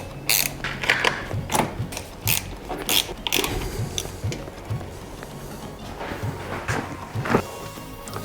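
Hex screws being tightened on an interior trim part of a 2008-2014 Subaru WRX, heard as a close series of short ratcheting clicks and small mechanical ticks in irregular bursts, with no talking.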